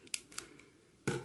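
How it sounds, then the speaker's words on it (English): A couple of quick snips of scissors cutting, brief and close, followed by a louder crisp cut at the end. "No, you need scissors."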